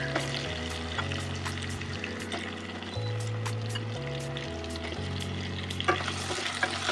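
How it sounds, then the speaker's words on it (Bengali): Diced potatoes sizzle in hot oil in a pan and are stirred, a continuous close frying crackle broken by occasional scraping clinks, with low background music and no talking. "এবার আলুটাকে একটু ভেজে নেব।"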